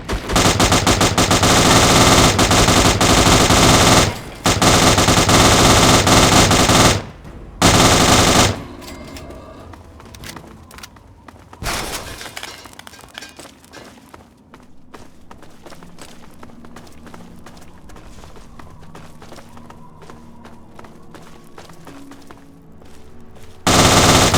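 Sustained bursts of heavy automatic gunfire from the video game Fallout 3 roar loud and continuous, pause briefly, then give way to scattered shots and quieter battle noise before a final loud burst.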